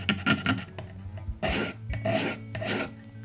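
Coarse 80 grit sandpaper rasping back and forth across an acoustic guitar bridge, several short, close scraping strokes in an uneven rhythm, with no talk.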